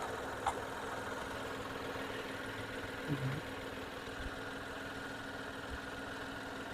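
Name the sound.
Datsun Redigo car engine idling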